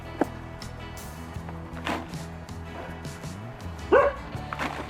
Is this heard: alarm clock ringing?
no